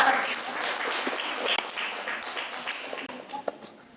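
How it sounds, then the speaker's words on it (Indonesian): Studio audience applause at a talk show on Gestalt psychology, a dense continuous wash of clapping with scattered sharper claps, fairly steady throughout and loud. "Mari kita berikan tepuk tangan yang pada"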